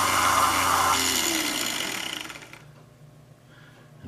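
Small workshop tool deburring a freshly cut brass contrate wheel for a carriage clock, a steady whirring grind for about two seconds that fades out, leaving near silence.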